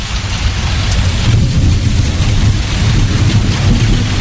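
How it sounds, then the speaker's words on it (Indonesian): Heavy rain pours down steadily in a loud, dense roar, with deep rumbling thunder rolling underneath throughout. "Hujan pun semakin membesar,"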